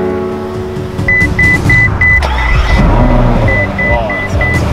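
A Ferrari-style V12 supercar engine roars and revs hard close by, with rising and falling throttle blips and a steady electronic beeping chime running through it.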